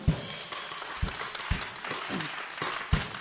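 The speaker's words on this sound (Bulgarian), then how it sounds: "Аплодисменти за музикантите, без които не бихме могли да си представим нашето шоу." Audience applause for a folk music ensemble on a televised dance competition show, a short steady patter of clapping with a few louder claps, moderately distant.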